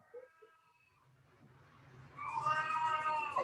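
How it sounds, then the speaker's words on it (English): A house cat at home during a video meeting gives a single drawn-out meow near the end, after a few faint, brief chirps in an otherwise quiet room. "And that's our cat Scooby, who loves to participate in Zoom."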